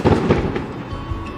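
A barrage of distant fireworks in China, blending into a continuous low rumble of overlapping booms with no voices present.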